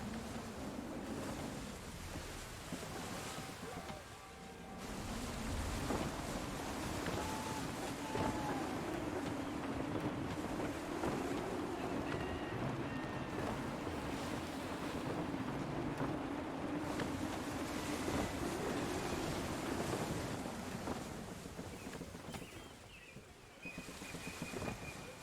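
A sailing ship in Assassin's Creed moves through gusty wind, with continuous rushing wind and wave wash over a low steady rumble, fairly loud throughout and easing slightly near the end.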